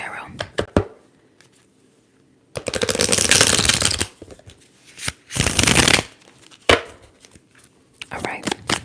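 Tarot cards shuffled by hand in a quiet ASMR setting, with bursts of riffling and rustling lasting about a second each and separated by short taps and pauses, close and crisp.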